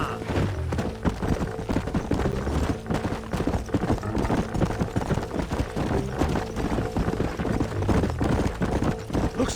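Horse hooves galloping in the Red Dead Redemption video game, a rapid, continuous clip-clop of several horses running on dirt, steady and fairly close throughout with no talk over it.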